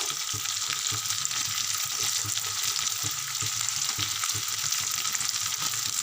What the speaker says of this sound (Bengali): দেখো আমার সবজিগুলো মোটামুটি ভাজা হয়ে গেছে